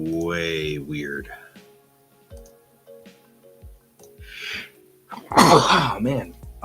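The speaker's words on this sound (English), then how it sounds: "All of a sudden I'm sneezing in pairs." Two sneezes burst out in quick succession near the end, loud and close, after a stretch of faint ticking and brief quiet talk.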